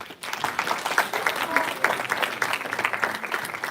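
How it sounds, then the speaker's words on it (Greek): A short burst of applause from a school audience at a youth event, dense continuous clapping at moderate distance with some voices murmuring underneath. "Ένα μικρό χειροκρότημα"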